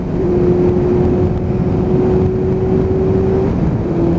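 A Kawasaki ZX7R motorcycle engine with a Micron exhaust can idles and revs steadily, loud and close, with a constant droning hum running throughout.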